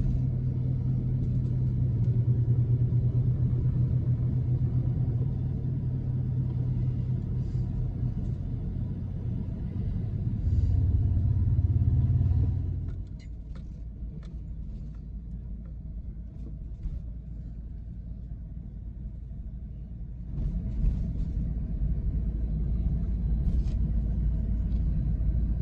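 A car driving along a road past small towns, its steady low engine rumble and road noise continuous throughout, swelling louder for a stretch before easing and returning, with no talk.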